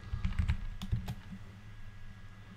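A quick run of close keystrokes on a Mac computer keyboard, about a dozen clicks in the first second and a half, then quiet room tone.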